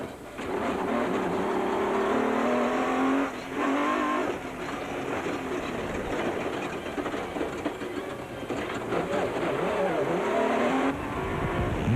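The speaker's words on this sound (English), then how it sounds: "Relying on the Nissan's blindingly fast acceleration, De Villiers immediately opened up a gap on" A Nissan touring car roars hard under acceleration during a 2002 endurance race, a loud sustained engine drone with shifts in pitch and crowd-free track noise throughout.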